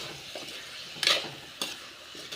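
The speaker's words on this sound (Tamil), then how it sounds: "அதை போட்டு நல்லா வணக்கிக்கலாம்" Sliced ripe tomatoes are stirred into a sautéing pan for a hotel-style tomato egg gravy: a low steady sizzle with a couple of sharper scrape-and-clink strokes of a utensil against the pan, close and fairly quiet.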